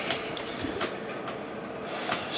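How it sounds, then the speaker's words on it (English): A westbound Union Pacific freight train rolls past a rail diamond crossing in Rochelle, Illinois, giving a steady, fairly distant rumble with faint wheel clatter and hiss and no talking. "Union Pacific westbound just cleared the diamond."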